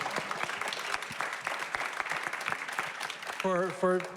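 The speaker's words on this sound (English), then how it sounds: "Let's give a round of applause for Benjamin for" Audience applause at an intimate studio community session, dense steady clapping filling the room, with a voice and some tonal sound entering near the end.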